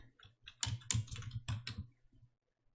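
Fingers tap out text on a computer keyboard while working in PowerPoint, a quick, close run of soft clicking keystrokes in small bursts that fade out at the end.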